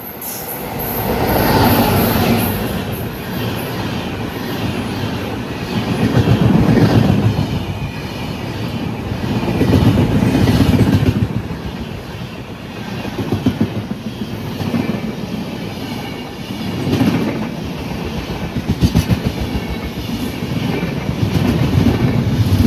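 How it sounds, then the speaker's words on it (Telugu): The 20805 Visakhapatnam–New Delhi Andhra Pradesh Superfast Express races through Kottapally station without stopping, a loud, close roar of wheels and wagons with rhythmic clatter and swelling surges as the coaches pass. "20805 Visakhapatnam New Delhi Andhra Pradesh super fast express"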